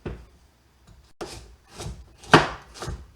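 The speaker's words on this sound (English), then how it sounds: "I'm going to cut the carrots now" A knife chops carrots into pieces just under a quarter inch on a cutting board, giving five or six sharp, separate knocks in an uneven rhythm, close and fairly loud with quiet gaps between them.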